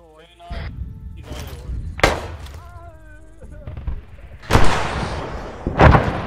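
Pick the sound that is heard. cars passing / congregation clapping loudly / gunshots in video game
gunshots in video game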